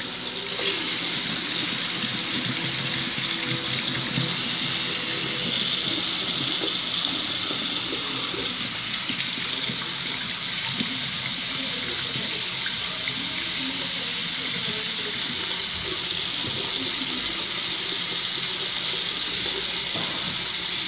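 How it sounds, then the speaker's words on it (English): Hot water runs steadily from a tap into a cup for a long stretch, a constant hiss and gush close by, with no talking. "you'll fill it up with hot water."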